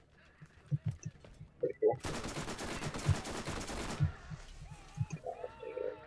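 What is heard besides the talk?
Gasher legendary gun firing in Borderlands video game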